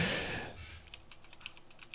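Typing on a computer keyboard: after a short burst of noise fades, a quick irregular series of light key clicks follows, close and fairly soft, with no talking over it.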